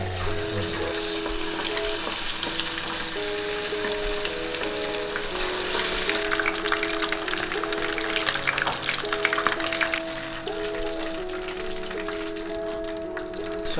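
Steady, loud sizzling of marinated chicken drumettes deep frying in hot oil, continuous throughout with light bubbling and crackling.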